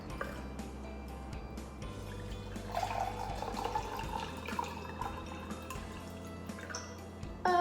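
Water poured steadily into two glasses until each is about three-quarters full, ahead of floating an egg; a soft liquid trickle and gurgle with a few faint drips, close and quiet, no talking.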